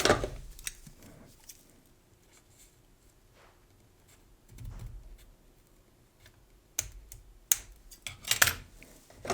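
Scissors cut material for a handmade card holder with a pull-strap, with scattered light snips and handling clicks. Quiet stretches give way to a cluster of sharper, close cuts near the end.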